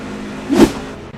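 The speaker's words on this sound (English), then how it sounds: "Hendricks at full speed underneath the 3 truck." A NASCAR Truck Series race truck at full speed at Las Vegas sweeps past in a brief, loud engine whoosh that swells and fades within a second over a faint steady background hum.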